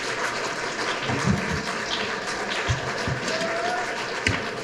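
Thin, scattered applause rises from a modest crowd at a Veterans Day gathering, with a few sharper claps and some voices over a continuous hiss.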